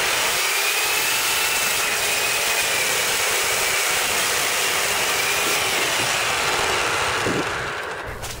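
A Sunjoe SWJ700E electric chainsaw with a brand-new saw and chain runs steadily at close range, its loud motor whine holding constant for several seconds before beginning to fade at the end, with no talk over it.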